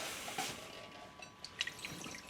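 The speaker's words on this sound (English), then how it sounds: "Fill that with water." Water is poured from a pitcher into a reptile's bowl, making quiet splashing, trickling and dripping with a few soft plinks, faint and close, with no talk.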